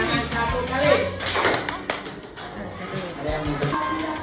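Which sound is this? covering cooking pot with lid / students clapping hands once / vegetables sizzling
students clapping hands once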